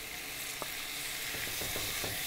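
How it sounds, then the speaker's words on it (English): Thinly sliced tomatoes sautéing in oil in a pan for a Kerala-style duck egg roast gravy: a steady close sizzle with a few soft stirring scrapes, no talking. "I want my tomatoes mashed well with that gravy. Let's saute it very well."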